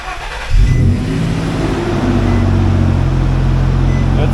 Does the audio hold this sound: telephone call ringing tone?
no